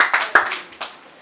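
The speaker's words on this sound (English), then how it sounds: "Let's applaud him." A few separate hand claps in a small gathering during a lesson, four or five sharp, close claps at irregular spacing that fade out within about a second.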